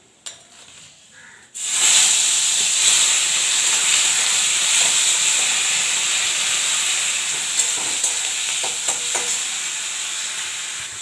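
Fresh live pond prawns tipped into hot oil spiced with dried red chillies, cumin and black cumin, a loud sudden sizzle bursting in after a quiet moment and hissing steadily, with faint stirring clinks.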